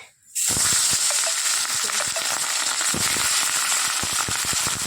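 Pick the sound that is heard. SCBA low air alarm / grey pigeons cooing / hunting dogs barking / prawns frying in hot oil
prawns frying in hot oil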